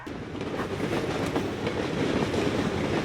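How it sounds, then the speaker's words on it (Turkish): A train rumbles past in the video game Drug Dealer Simulator, a steady, loud, close roar of wheels on rails that holds for the full few seconds with no talk over it. "Bu tren bizi bu şehirden götürse de kurtulsak mı acaba?"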